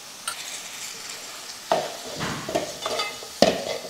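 Onion, tomato and kuzhambu spice powder frying in a pan, a soft continuous sizzle broken by several scraping stirs with a spoon, close and moderately quiet, no talk.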